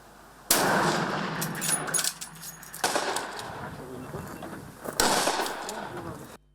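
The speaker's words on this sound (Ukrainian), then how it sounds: "Стріляють з гвинтівок, пістолетів та помпових рушниць." Sharp gunshots ring out, some single and some in quick bursts, loud and reverberant, with bangs at irregular intervals across the clip. Rifles, pistols and pump-action shotguns fired at a shooting range during training.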